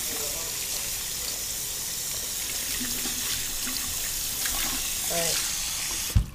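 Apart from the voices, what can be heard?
tap water rinsing a leopard gecko's water dish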